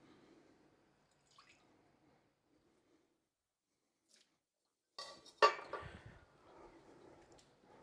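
Water added to a pan of large leek chunks for an emulsification: after near silence, a sudden splash and short sizzling, bubbling burst, then a quieter liquid hiss that trails off.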